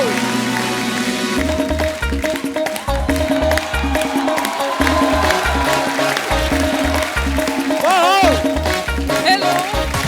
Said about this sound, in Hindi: आप सबकी जोरदार तालियों के बीच please welcome Yami Gautam, Neha Dhupia and Atul Kulkarni